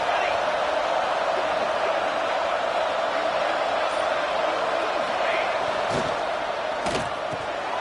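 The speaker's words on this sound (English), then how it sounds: "Listen to this crowd begging its defense to get a stop." A football stadium crowd roars for its defense late in the fourth quarter during a two-point conversion attempt, a loud, steady mass of cheering and noise with a few sharp thuds near the end.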